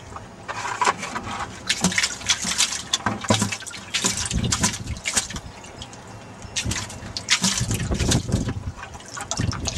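Heavy black sand and water get dumped and sloshed into a gold pan, giving irregular splashes, trickles and gritty pours close by, no talking.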